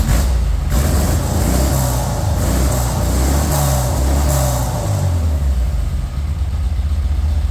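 A VW T25 van with a Bug Pack sports exhaust idles loudly and continuously up close, with a deep rumbling exhaust note that shifts slightly in pitch.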